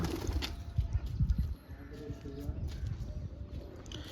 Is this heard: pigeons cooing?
yes